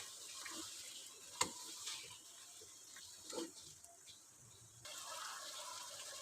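A spoon stirs turmeric and chicken powder into pumpkin curry in a pan, giving soft, quiet sizzling with a few sharp scraping knocks against the metal.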